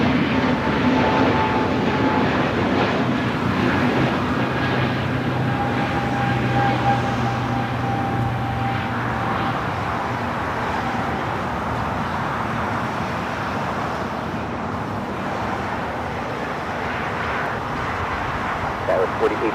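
A Boeing 787-9 Dreamliner takes off from runway 25 right at Los Angeles International Airport, a broad jet engine roar building and holding steady at a distance, with other airport noise and faint voices mixed in.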